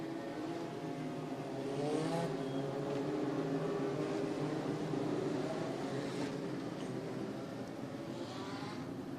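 Legend race cars circling Maquoketa Speedway during a feature, engines droning and swelling as they pass, a continuous, moderately distant roar with rising and fading surges.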